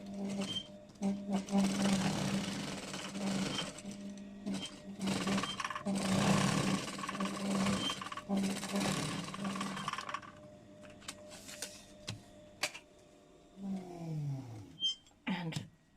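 A sewing machine stitches seams of half square triangles for a quilt, running in long steady bursts with a rhythmic motor whir and needle clatter, then stopping for a few short runs and fabric handling noises near the end.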